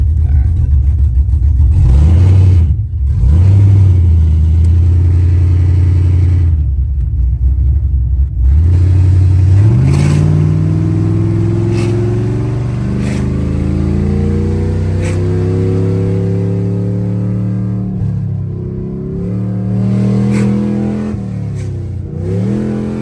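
An F-body car's engine idles close and loud with a deep, rough rumble, then revs up and down several times, pitch rising and falling through a long stretch of steady running, with no voices.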